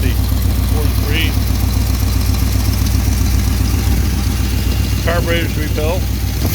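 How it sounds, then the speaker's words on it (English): A 1968 Oldsmobile 455 V8 with rebuilt carburetors and new points, condenser and coil idles warm with a loud, steady, low rumbling throb, while someone speaks briefly over it near the end. "Now we got just about a warm idle, and oil pressure still over 40, 43."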